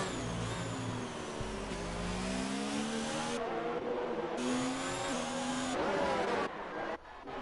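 Engine noise from a Ferrari race car spinning in the stadium section of a Mexican round of a Formula racing video game: a steady, loud mid-pitched drone with gliding rev changes and gear shifts, continuous throughout with no voices.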